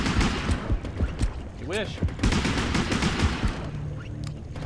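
Rapid bursts of gunfire from the underwater shark game Depth crackle through the clip in quick, repeated volleys, mixed with a player's voice speaking and shouting over the shots.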